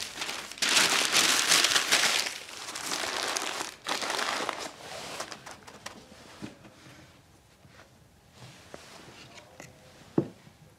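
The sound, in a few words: crumpling newspaper to stuff clay sculpture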